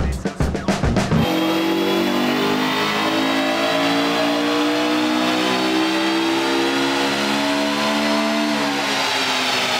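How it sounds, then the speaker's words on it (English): A Honda S2000 strapped to a dyno revs hard after a few short blips. The engine note then climbs steadily in one long, loud, close pull that lasts about eight seconds. "The S2000 is strapped down and ready to do 3 initial runs."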